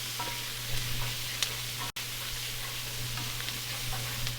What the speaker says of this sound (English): I'm going to start scraping the bottom, right? Because I want those bits to come up in these onions.